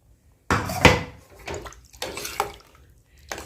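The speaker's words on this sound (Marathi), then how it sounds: "त्या प्लेटकरच्या भांड्यात थोडंसं पाणी घातले ते पण घातले" Water is poured into a cooking pot in several short splashing bursts, close and fairly loud, with brief pauses between pours.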